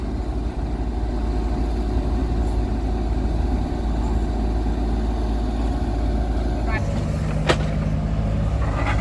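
A Kubota KX91-3SX mini excavator, an older machine in daily work, runs with a steady diesel engine drone throughout, its tone shifting near the end, heard close up and alone.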